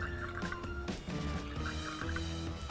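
Water poured for a sugar syrup for Turkish baklava, a faint steady trickle and dribble under a background of music-like tones, lasting a few seconds.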